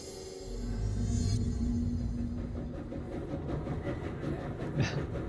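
A train in the video game Control rumbles along steadily with low mechanical drone and faint rhythmic clatter, continuous and fairly close.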